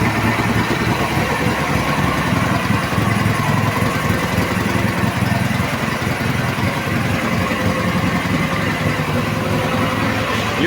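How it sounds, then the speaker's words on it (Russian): A Ural motorcycle engine, newly fitted with an electric starter and still cold, runs at a loud, steady idle with a dense, continuous rumble close by throughout. "Заводится четко, главное быстро."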